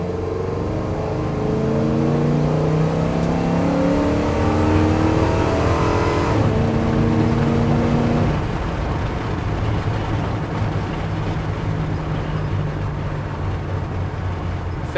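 A 1971 Chevy C10 truck with a 6.0L LS engine accelerates hard, its engine note climbing in pitch through the gears, loud and close, then settling into a steadier drone after a shift.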